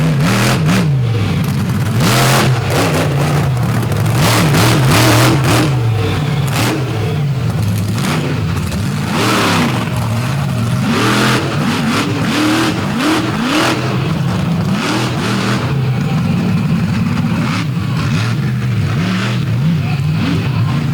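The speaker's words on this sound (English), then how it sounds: "Nothing like the sound of a crisp Titan-tuned Hemi" A Titan-tuned Hemi truck engine working hard at a night event in Benson, North Carolina, loud and close, with deep rumbling revs that rise and fall repeatedly over a steady low roar.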